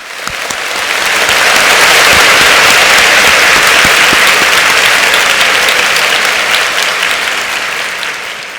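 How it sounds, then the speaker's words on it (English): Loud, sustained applause from a school audience at a Delhi Public School annual day, honoring the children, faculty and management; broad crowd clapping swells in and holds evenly for several seconds, with no talking. "one round of applause for the children, the faculty, teachers, principal, management."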